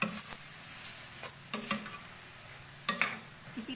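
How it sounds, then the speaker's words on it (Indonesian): Oil is stirred into cooked vegetables for bihun, giving a soft sizzle broken by sharp, irregular clacks of a utensil against the pan, up close and without speech. "Masukin minyaknya aduk-aduk."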